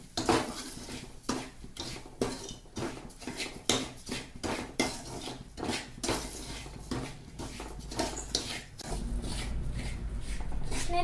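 Semolina being stirred and roasted in oil with cashews, raisins, cardamom, cloves and cinnamon in a pan for a sweet, heard as close, repeated scraping and clinking of a utensil against the pan with a steady sizzle building toward the end.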